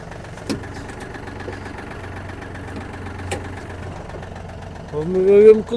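A Yanmar AF-26 Japanese mini tractor engine idles steadily in gear with a low, even rumble and occasional knocks, rising in loudness near the end as a voice speaks over it.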